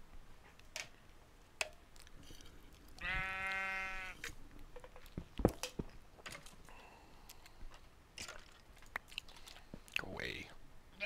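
A sheep bleats in vanilla Minecraft, one clear wavering bleat in the middle, surrounded by scattered clicks, thumps and game noises, with a person talking quietly at times.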